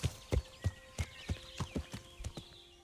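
Horse hooves in Kingdom Come Deliverance while riding, a steady series of about ten close clip-clop hoofbeats in an even walking rhythm over a faint tonal background.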